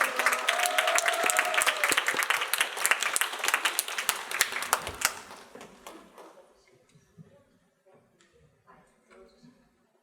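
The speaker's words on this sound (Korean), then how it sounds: "그럼 큰 박수로 작가님들을 모셔보겠습니다" Audience applause welcoming two authors onto the stage at a campus broadcast book talk show, lively clapping that fades out halfway through, leaving quiet room sounds and faint voices.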